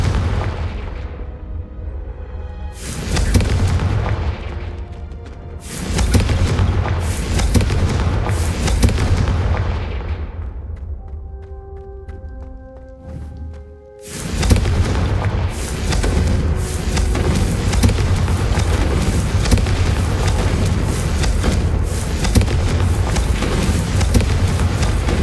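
Confringo blasting spells in Hogwarts Legacy going off as repeated loud booming explosions, several heavy blasts with rumbling tails and a brief lull before another burst of continuous detonations.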